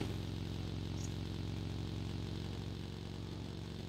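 A motorcycle engine in the battle-royale video game BGMI runs as a faint, steady low drone throughout, idling or cruising at a distance.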